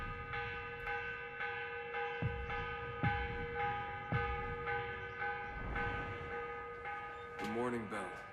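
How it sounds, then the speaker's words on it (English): Morning church bell ringing in Assassin's Creed Revelations, sustained ringing tones with several struck peals over a low ambient hum, a voice speaking briefly near the end. "The morning bell."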